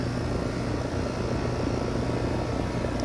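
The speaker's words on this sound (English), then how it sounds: "You could already hear a huge compressor difference as soon as refrigerant is put into that" HVAC outdoor unit compressor running while refrigerant is slowly charged through a hose. A steady, loud, broadband mechanical drone with a low hum holds throughout without voices.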